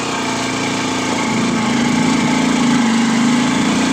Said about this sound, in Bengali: তাতে উঠতে হচ্ছে বাইকে।